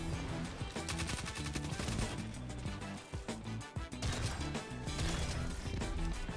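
Dense, loud gunfire from a Destiny online shooter game, heavy repeated blasts and impacts layered over a constant thick background of game sound, with no pause.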